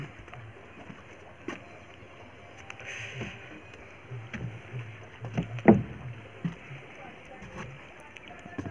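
A small boat engine runs steadily on a lake between hills, a low continuous drone with light water sloshing and occasional bumps, heard close under someone talking.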